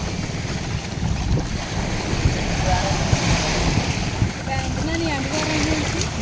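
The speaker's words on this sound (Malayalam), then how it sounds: "ഇതാണ് നമ്മുടെ ഗ്ലാസ് ബോട്ട്." A glass-bottom boat at sea off Lakshadweep, steady broadband rush of wind and water against the hull with a continuous engine rumble, close and constant throughout.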